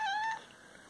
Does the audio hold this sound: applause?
no